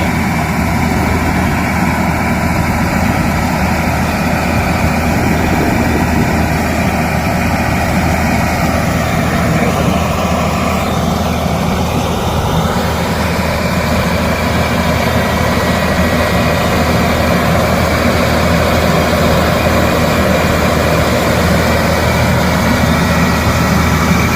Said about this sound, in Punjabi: ਤੁਸੀਂ ਵੇਖੋ ਜੀ ਜੌਨ ਡੀਅਰ ਦਾ ਜਿਹੜਾ ਹੈਗਾ ਸਪਰੇਅਰ ਕਿਵੇਂ ਇਹ ਕੰਮ ਕਰਦਾ